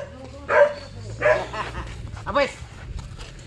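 Small dogs yip and bark in three short bursts close by, with a person talking over them in a homey outdoor setting.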